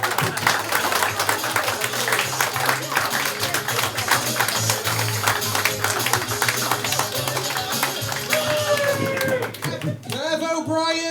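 Audience applause and claps fill a comedy bar in Manchester after a comedian's one-liner set, a dense steady wash of clapping with crowd noise, followed by a brief musical sting near the end.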